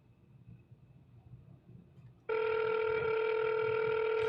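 An outgoing Google Voice call rings out through the phone: faint background murmur first, then a loud, steady electronic ring tone cuts in abruptly and holds.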